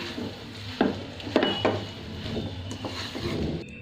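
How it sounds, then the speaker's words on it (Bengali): Homemade noodles stirred in a pan with coriander leaves, a utensil scraping and clinking against the pan in a few distinct strokes over a faint low sizzle, moderately close with no talking. "1 টেবিল চামচের মতো ধনিয়া পাতা দিয়ে এটাকে এখন ভালো করে নাড়াচাড়া দিয়ে নামিয়ে নেব"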